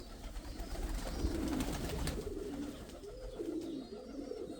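A pigeon outdoors coos softly in repeated low, rolling phrases over a steady background hum, with faint chirps from other birds and no talking.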